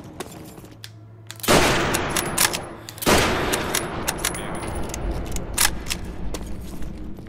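Gunfire in the video game World at War during a 1v1 match: two sharp, loud shots about a second and a half apart, each followed by a ringing tail and scattered metallic clicks and rattles.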